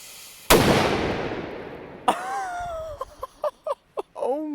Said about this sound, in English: here is the M80 firecracker, guys, and now we're gonna see if it breaks open the lock